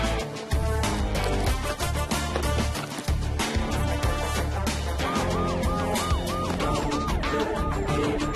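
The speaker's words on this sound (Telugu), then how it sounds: "పోలీసులో ఉన్నారు, సైరన్ కొడుతున్నారు" Police car siren wailing alongside loud, dense film music and engine noise, the siren rising and falling steadily in the second half of the scene.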